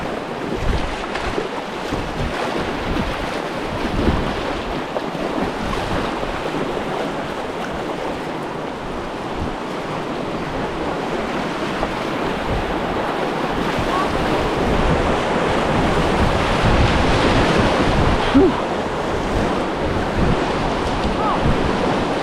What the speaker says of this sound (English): We just put in at High Banks and we're floating down to Turner Bend